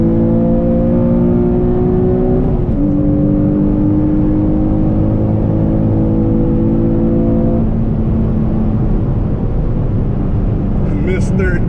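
Stock Nissan 350Z NISMO engine revving loudly after a missed shift into third gear, the drone holding steady and dropping in pitch midway before trailing off, heard from inside the car while driving.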